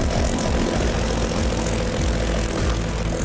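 A homemade paramotor engine drones loud and continuous as it flies over village fields in Haryana, its propeller buzz steady and close with no pause.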